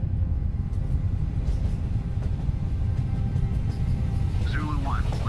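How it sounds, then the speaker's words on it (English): A train moves along in a video game, a low continuous rumble with faint electronic tones under the rumble; no speech is audible. "All right, there's the train."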